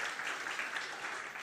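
A church congregation claps together, a dense, even wash of applause at moderate distance, fairly soft and steady throughout with no speech over it.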